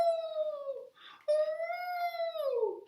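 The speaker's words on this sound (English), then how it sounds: "Edward heard Lucy's anguished howl." A dog howls in two long, mournful, wavering tones that drift downward at the close, with a brief breathy gap between them, heard fairly clearly with no other sounds around.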